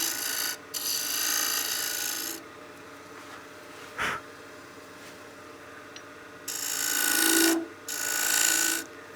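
Skew chisel cutting a dovetail on a wood lathe, heard as close, steady rasping scrape in several sustained passes of a couple of seconds each, with quieter gaps of spinning-lathe hum and a brief thump between.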